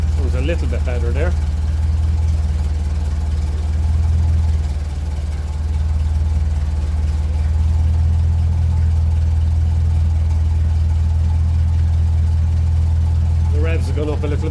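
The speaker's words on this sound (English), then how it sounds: "The revs have gone up a little bit there as well, so it's happier, I think." A 1957 Ferguson 35 tractor running on TVO idles with a steady low throb that lifts slightly in revs, heard continuously under someone speaking at the start and end.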